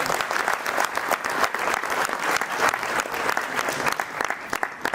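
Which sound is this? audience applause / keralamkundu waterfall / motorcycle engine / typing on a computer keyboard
audience applause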